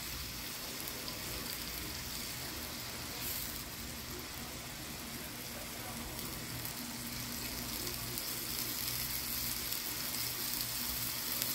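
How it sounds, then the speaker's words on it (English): Shrimp sizzling steadily in a hot pan for hot honey shrimp tacos, a dense, continuous frying hiss that holds close and even throughout with no talk over it. "Cooking shrimps like this is easy."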